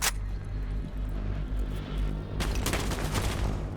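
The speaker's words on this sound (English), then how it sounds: "Gunfire comes out from the other side." Sustained gunfire crackles through a competitive esports shooter match in bursts over a heavy, rumbling low end, growing sharper and denser toward the end with no voice over it.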